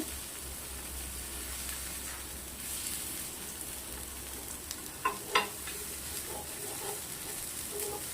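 Paneer tikka frying on a hot tawa with ghee: a steady, quiet sizzle and hiss runs throughout, broken near the middle by a few faint scrapes and taps as pieces are loosened and turned.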